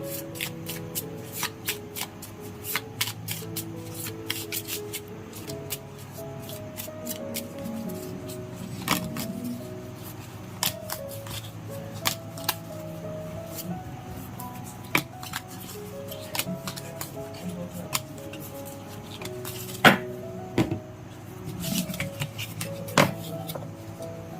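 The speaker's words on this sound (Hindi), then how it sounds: "टैरो में से भी लेंगे 7 कार्ड्स। तो शुरुआत करते हैं हम शफल करके" Tarot cards being shuffled by hand, with repeated crisp riffles and flicks in an irregular rhythm, close and steady for a long stretch with no talking.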